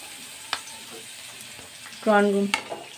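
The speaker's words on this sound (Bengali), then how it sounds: "আমি কড়াইয়ের মধ্যে একটু তেল নিয়ে নিয়েছি, তার মধ্যে দিয়ে দেব গ্রেট করে রাখা রসুন আর কাঁচা লঙ্কা" Garlic and green chilies fry in oil with a quiet, even sizzle, broken by a couple of sharp clicks and a brief voice near the end.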